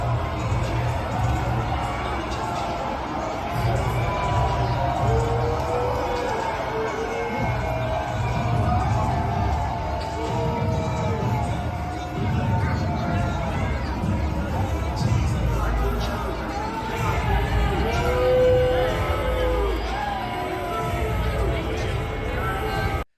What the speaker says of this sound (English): Trump sitting in his SUV, there's booing, there's jeering, fine.